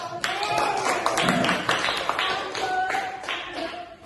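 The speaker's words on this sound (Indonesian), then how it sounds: "Bisa beri aplaus dulu untuk" Brief scattered applause in an Indonesian classroom for the first student group after its presentation, a few dozen claps close by with uneven rhythm and faint voices underneath.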